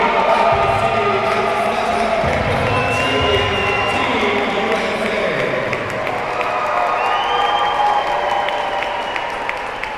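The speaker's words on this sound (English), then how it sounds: "one more big round of applause for number 6, Luke McDermott" Sustained crowd applause and cheering fill an arena after the gold medal game of the 2016 Ice Sledge Hockey Pan Pacific Championships in Buffalo, loud and steady throughout with faint voices mixed in.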